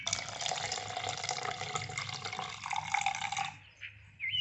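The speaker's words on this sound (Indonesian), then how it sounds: "Kita tambahkan air sampai 200 ml ya." Water poured from a tap into a measuring cup for a cassava cake recipe, a steady hissing, splashing stream close by that tapers off near the end, then a few brief drips and trickles.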